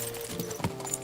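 A horse's hooves clip-clop in the medieval video game Kingdom Come Deliverance 2, a few soft, close hoof beats spaced irregularly over a low background hum.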